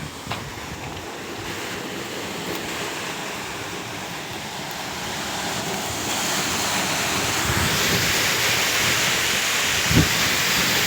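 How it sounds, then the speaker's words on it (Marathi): Water gushing from the 3-inch outlet pipe of a 5 HP Kosol solar pump at a 30-meter head, a loud, steady rushing roar that builds slightly and runs without a break, with no speech. "बघू शकता अशा प्रकारे पाणी मारते हा पंप।"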